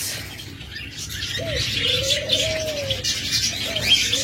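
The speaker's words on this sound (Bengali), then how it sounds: "অসংখ্য সুইটাল ঘুঘু রয়েছে।" Caged sweetal doves at a bird seller's place, one drawn-out coo plus a short one, close and clear, over constant chirping from many birds.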